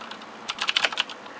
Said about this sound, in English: You can hear the sound of the keyboard.